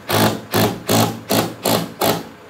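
A power tool drills during assembly of a Boxabl Casita folding home, sounding as six loud, evenly spaced bursts at roughly two per second, close by, with no talk over them.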